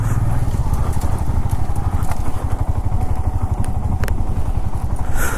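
Royal Enfield motorcycle riding over a muddy patch on a mountain road in Spiti, with a loud, steady thumping engine and some clatter close to the microphone.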